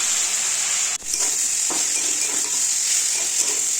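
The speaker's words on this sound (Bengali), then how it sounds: "আলু পেঁয়াজ কাঁচা লঙ্কা একটু ভেজে নেব" Potatoes, onion and green chillies fry in a hot pan with steady sizzling, a continuous bright hiss with a brief stir or scrape near the start.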